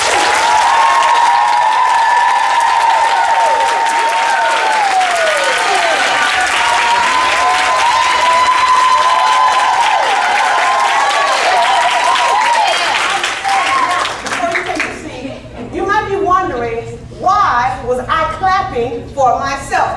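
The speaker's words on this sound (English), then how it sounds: "You will clap for yourself." A conference audience claps for itself in sustained, loud applause with scattered cheers, tapering into uneven, thinning claps toward the end.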